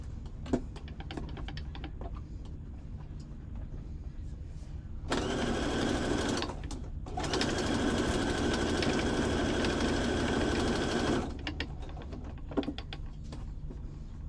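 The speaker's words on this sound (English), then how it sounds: "let's bring that sewing machine back in" A sewing machine runs in two sustained bursts of rapid stitching on a journal cover, with quieter handling and tapping noises before and after.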